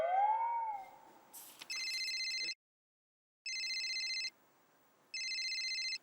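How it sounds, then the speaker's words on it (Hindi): A telephone rings in three evenly spaced electronic bursts, clear and fairly close, with a brief higher warbling tone at the start and near-silence between rings. "फिर से क्यों फोन कर रहा है?"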